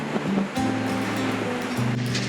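Big ocean waves surge and crash at Shoe Cove Beach, Newfoundland, in a steady, loud wash of surf with wind buffeting the microphone and a low rumble underneath.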